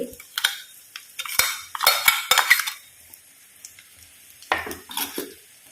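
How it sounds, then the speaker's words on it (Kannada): Garlic chili paste frying in oil in a pan with a soft sizzle, broken by several bursts of a metal spatula scraping and stirring close by. "ಸ್ವಲ್ಪ ಎಣ್ಣೆಯಲ್ಲಿ ಫ್ರೈ ಆಗಲಿ"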